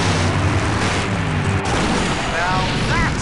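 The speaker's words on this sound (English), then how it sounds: "Now that's an explosion, ladies and gentlemen." An explosion in the Full Throttle video game booms with a loud, dense rumble that fills the whole moment, with game music and effects continuing over it.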